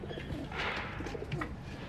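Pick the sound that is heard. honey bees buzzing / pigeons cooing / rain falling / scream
pigeons cooing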